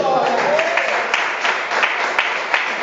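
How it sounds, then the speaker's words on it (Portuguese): A church congregation claps during an evangelical sermon, a steady stream of many hands with a few sharper accents, somewhat loud, while a voice is faintly audible at the start. "Palmas para o Senhor Jesus."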